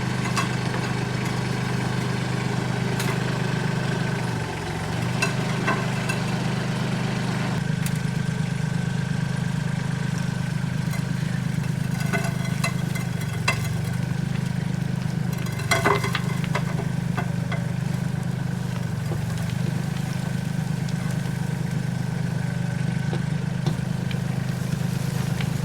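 A tractor engine runs steadily on a rural Portuguese homestead, a constant low idling drone with a few faint clicks and knocks over it, no voices.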